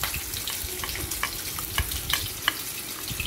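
Fish pieces marinated in salt, turmeric and chili fry in hot oil in a wok, a loud close crackling sizzle with scattered sharper pops throughout.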